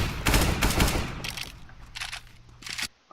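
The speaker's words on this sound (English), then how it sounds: "You shot about 7 times, and then you reloaded" Rapid rifle fire in Counter-Strike on the Mirage map, a dense volley of about seven quick shots followed by a few scattered shots and mechanical clicks, fairly loud with no talking.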